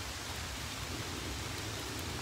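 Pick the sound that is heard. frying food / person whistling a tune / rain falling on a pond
rain falling on a pond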